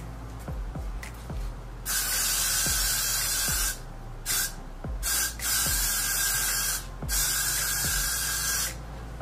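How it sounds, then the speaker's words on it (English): Several short bursts of hairspray hiss close up, separated by brief pauses and light clicks. "I'm gonna pop my mask on and spray it on"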